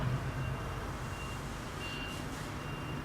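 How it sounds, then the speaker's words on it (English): A faint, distant lorry reversing beeper sounds in a repeating pattern over a low background rumble. "Sounds like a lorry is reversing."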